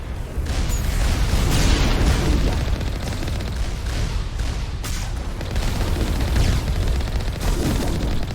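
Barrage of rocket blasts and gunfire in the Mass Effect video game, with repeated heavy booms and crackling impacts arriving in quick, irregular bursts, loud and close throughout.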